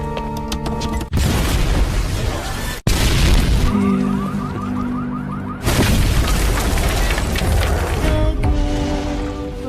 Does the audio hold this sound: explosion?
yes